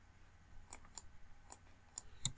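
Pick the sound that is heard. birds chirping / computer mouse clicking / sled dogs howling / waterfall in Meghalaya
computer mouse clicking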